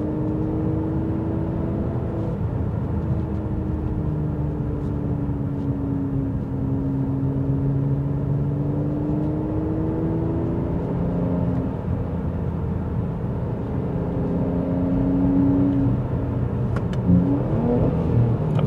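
A car engine with an ASR module fully on holds steady in third gear at 3000 RPM, a smooth sustained drone with a faint whir, heard from inside the moving car without talk.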